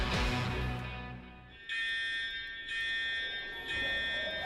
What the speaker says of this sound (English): the fire alarm going off